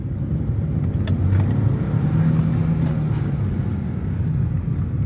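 A Peugeot 208 with a PureTech petrol engine out on a road test, heard from inside as a steady low engine and road rumble with little change in pitch, and no talk.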